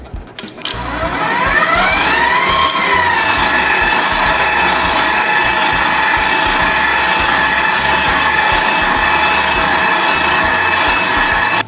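Electric mixer whirling Oreo pound cake batter in a home kitchen, a steady, loud motor whine that runs continuously with a brief pitch sweep near the start and no talking.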